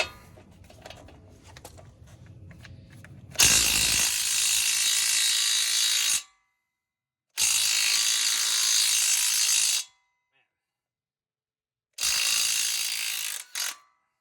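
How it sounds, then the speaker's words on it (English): A Makita subcompact impact driver hammers on 19mm bolts while a Subaru Crosstrek's front springs are installed, giving three loud sustained rattling bursts of a few seconds each, separated by silence, with a short final burst. "this impact driver I'm using, or impact wrench I'm using, this is the Makita subcompact"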